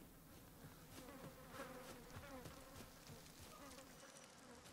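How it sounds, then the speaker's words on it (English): Buzzing flies in the video game Dragon's Dogma 2, a steady droning hum of several insects lasting throughout, fairly quiet and continuous with no voices over it. "Did I just hear buzzing flies?"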